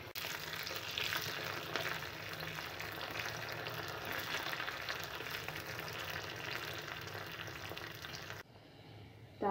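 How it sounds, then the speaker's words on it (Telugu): Tempering of garlic, curry leaves and dried red chilies frying in hot oil for palak pappu charu, a soft steady sizzle that fades near the end. "తాలింపు ఫ్రై అయిన తర్వాత"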